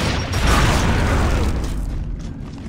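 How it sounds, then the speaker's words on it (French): Explosion in the Gears of War Judgment multiplayer match, a loud dense rumbling blast that fills the moment and slowly tails off, no voices. "Gare à l'explosion!"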